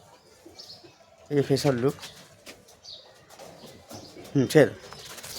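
Pigeons in a home loft of high-flying birds give two distinct bursts of throaty cooing, close by, while someone talks in between and over the calls.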